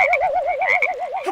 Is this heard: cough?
no